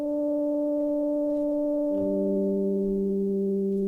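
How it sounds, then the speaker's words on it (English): A Minilog synth preset of a sine wave with very high filter resonance, sustaining steady buzzy tones rich in harmonics, with the pitch dropping partway through to a lower held note. "mini log with a sine wave and really high resonance on the filter, so it generated a bit more harmonics"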